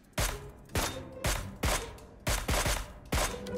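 Shots in PUBG Mobile ring out at a vehicle, six sharp, loud reports in an uneven rhythm about half a second apart, each with a short decaying tail.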